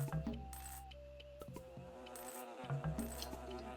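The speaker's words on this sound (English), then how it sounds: "if you click on the bees, they get mad" Continuous insect-like buzzing of angry bees in a video game, with a steady low drone and flickering higher tones, fairly loud and close, with brief electronic blips mixed in.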